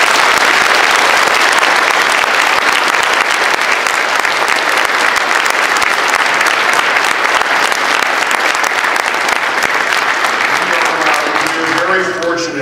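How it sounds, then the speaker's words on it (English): Sustained, loud applause from a convention audience at the end of a PAX East 2013 video game panel, steady clapping filling the room for the whole stretch and tapering slightly at the very end. "so let's have a round of applause."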